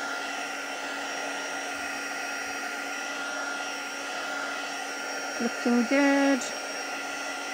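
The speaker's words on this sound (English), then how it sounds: "I sort of dry this side till it looks dry, and then I'll have a go at the other side." Heat tool runs with a steady, close, loud whirring drone while drying a junk journal guest check, and a voice briefly speaks over it near the end.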